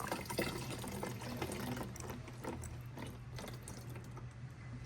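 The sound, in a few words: coolant fluid draining from a hose into a bottle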